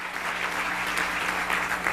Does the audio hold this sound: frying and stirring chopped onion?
no